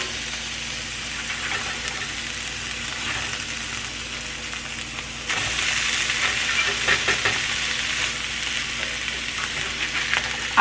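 Salmon patties frying in about two tablespoons of oil in a pan, a steady close hiss and crackle that grows louder as they are flipped, continuing without talk.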